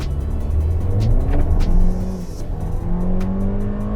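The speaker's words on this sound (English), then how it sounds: "This 2-litre 4-cylinder is really going for it" A Mercedes-AMG GLA250 with a 2-litre four-cylinder engine pulls hard in a drag race at Sepang, a loud, close engine note rising through the revs, dipping at a gear change around the midpoint, then climbing again.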